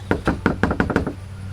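Knuckles rap on a house door in a quick series of about seven sharp, fairly close knocks, loosely grouped in pairs, with a low background hum and no talk.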